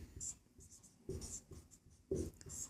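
Pen writing an answer on paper for a class 10 probability exercise, faint scratchy strokes in short bursts close by, alongside quiet talking.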